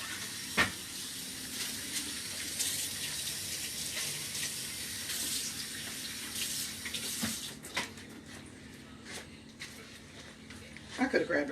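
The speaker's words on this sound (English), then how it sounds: "And wash off my spoon." A kitchen faucet runs steadily while a wooden spoon used for frosting cinnamon and sugar biscuits is rinsed under it, with small clatters near the end.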